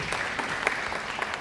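Short burst of audience applause at a mental health talk on depression, scattered claps standing out from the crowd and a faint voice beneath.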